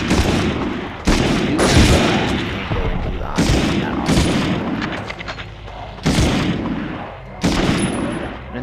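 Gunfire from the PS1 game Medal of Honor: a string of loud, sharp game gunshots in bursts roughly every second or two, each with a booming tail, over a steady background of game sound and music.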